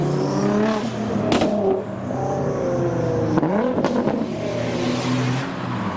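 A modified Nissan GT-R accelerates past at a Japanese car meet in Reading, a loud close engine roar with rising revs, gear changes and a brief whoosh as it passes, another engine audible nearby.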